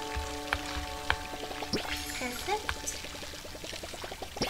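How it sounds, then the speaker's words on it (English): A watering can splashes water onto crop plants in the cozy farming game Palia, with repeated short pouring bursts and chimes under a player's occasional talk. "I'm gonna go water plants."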